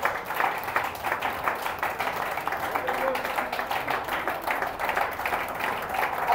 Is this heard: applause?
yes